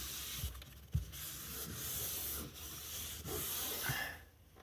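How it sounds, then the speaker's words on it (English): Steady dry rubbing and wiping strokes with kitchen roll on an Audi A3 Quattro dashboard, close by, with a few soft thumps between passes and no talking. "I just give that a wipe over with some"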